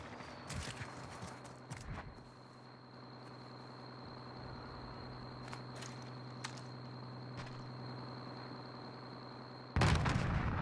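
Video game gunfire in a battle royale match: scattered sharp shots and a few louder blasts over steady background hum, with a heavier burst at the end, moderately loud and without talk.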